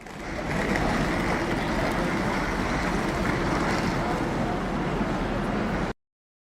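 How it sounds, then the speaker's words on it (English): A dense, continuous wash of rumbling noise and distant bustle fills the space steadily, then cuts off abruptly. "And that is a train station"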